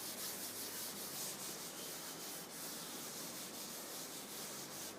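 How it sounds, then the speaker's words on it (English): Steady rubbing and scraping of an eraser or duster wiping a block diagram off a classroom board, a continuous close hiss lasting the whole stretch with no talk. "So I'll rub off this block diagram."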